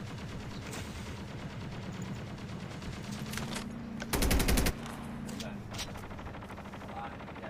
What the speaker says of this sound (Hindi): मैंने कितनी गोलियां मारी है यार।